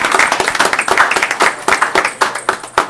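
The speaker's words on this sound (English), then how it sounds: "let's have one more big round of applause" A big round of applause at a parks advisory board meeting, a small group clapping close by in a lively, uneven patter that thins to a few separate claps near the end.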